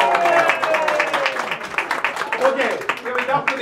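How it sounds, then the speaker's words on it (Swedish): An audience applauds in honour of Tor Modén at a celebration of his 118th birthday, steady clapping filling the room with voices speaking over it as it thins out toward the end. "En applåd för Tor Modén!"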